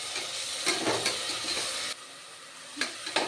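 Onion, ginger, garlic and mint sautéing in a pan for biryani give a steady, moderate sizzle broken by a few sharp scrapes and clinks of stirring, with no talk.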